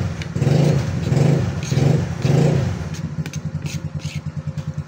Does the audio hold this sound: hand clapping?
no